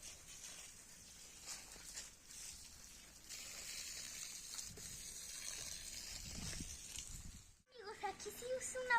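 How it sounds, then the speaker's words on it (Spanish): Water gushes and splashes steadily from an outdoor fountain, a faint continuous rushing under a person talking, ending with a brief louder splash. "aquí sí es una fuente"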